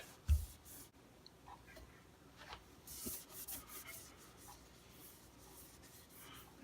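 An Epiphone SG guitar headstock is rubbed with polish by hand, producing quiet, close, irregular wiping and rubbing strokes with a soft knock near the start.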